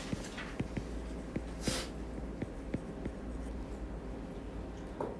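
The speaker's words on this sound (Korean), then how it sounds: "밑에 써볼게요. 수식받는 명사가 거기다 써볼게." Chalk or marker strokes on a classroom board during a Korean English-grammar lesson: a steady series of short, crisp taps and scratches at a regular writing pace, close and moderately loud, with no talking.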